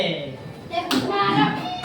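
Pupils in a classroom play a rhythmic clapping game, a few sharp hand claps landing in time among children's chanting voices.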